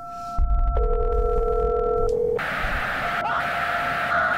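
A telephone line in a horror video game gives steady electronic tones that switch pitch partway through, then a noisy hiss with a higher tone, loud and continuous.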